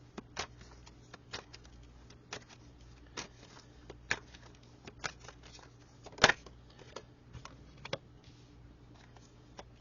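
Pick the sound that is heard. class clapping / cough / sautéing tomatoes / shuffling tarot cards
shuffling tarot cards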